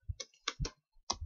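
Keys tap on a computer keyboard while a command is entered, several quick close clicks in an uneven run with short pauses between them.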